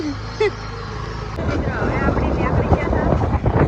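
A Honda Activa scooter engine starts partway through and keeps running with a steady broadband hum, while people talk nearby on a village fair outing.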